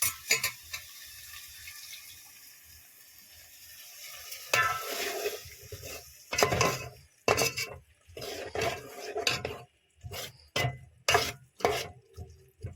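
Rice and dal with peas, tomato, potato and onion are tempered in a pot, giving bursts of loud sizzling and stirring clatter that begin after a quiet start and come in uneven surges.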